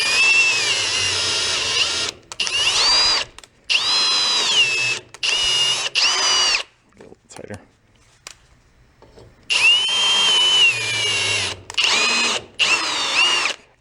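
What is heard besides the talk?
power drill running a thread tap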